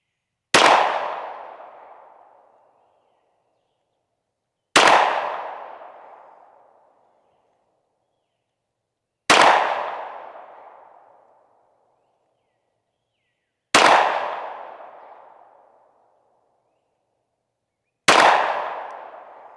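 Five loud, sharp pistol shots from a Shadow Systems XR920 fired at a 25-yard target, spaced roughly four to five seconds apart, each ending in a decaying echo with silence between.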